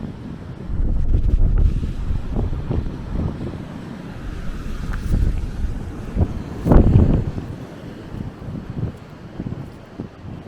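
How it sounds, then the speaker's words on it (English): Ocean waves on a rocky shore near Porto surge and break in irregular swells, one heavier crash standing out, with gusts of wind buffeting the microphone throughout. "just listen to the waves crashing"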